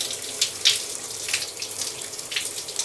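Hotel shower in a corner king room at the Hilton Richardson-Dallas, running with modest pressure: a steady close hiss of spraying water with small splashy fluctuations, no voices.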